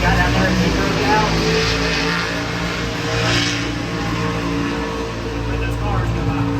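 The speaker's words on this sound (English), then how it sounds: "Let those cars go by. A little loud." Loud, steady engine roar at a drag strip during bracket racing, with race cars driving past nearby as a broad rumble that swells and eases over several seconds.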